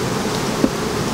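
Steady close-up buzzing from many honey bees at an opened hive during honey harvesting, a continuous droning hum with no pauses.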